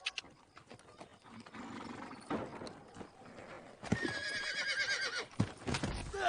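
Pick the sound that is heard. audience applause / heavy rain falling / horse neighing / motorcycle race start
horse neighing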